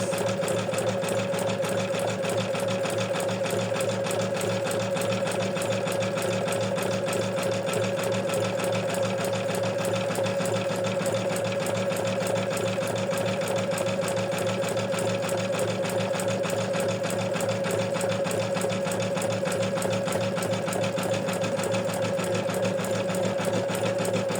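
Embroidery machine stitching a bookmark, a continuous fast mechanical whir with a steady tonal hum and rapid needle rhythm, close and unchanging throughout.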